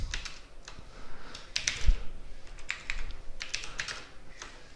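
Close, steady tapping on a computer keyboard while code is entered, with uneven bursts of keystrokes and short pauses, and no voices.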